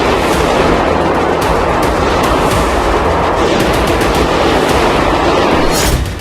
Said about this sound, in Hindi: अंदर लोगों को बेहद करीब से गोलियां मारी गई